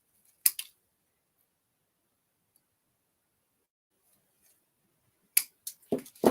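A few sharp scissor snips cut pieces from a DIY Christmas ornament, one isolated near snip at first, then a quick cluster of crisp cuts after a long silence.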